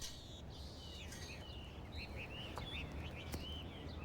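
Caged songbirds brought from southern China sing in a communal garden in New York's Chinatown, with several thin, bright whistled phrases and chirps rising over a faint, steady outdoor background hum.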